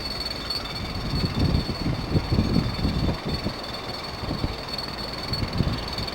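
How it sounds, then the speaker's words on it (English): A Midland Main Line train pulls into Wellingborough Station at platform 2, a continuous rumble of wheels and engine with irregular clattering rail thumps and a faint high whine, heard at moderate distance without any talking. "That's the Midland Main Line train. That's stopping at Wellingborough Station"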